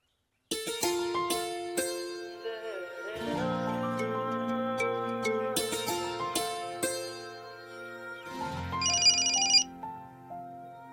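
A telephone ringtone plays in a clear melodic pattern with repeated tones, ringing steadily for about ten seconds with no talk over it.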